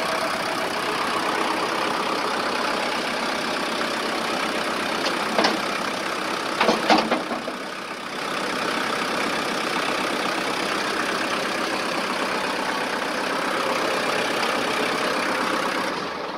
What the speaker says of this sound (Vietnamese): Và tiếng máy thì rất là êm đó.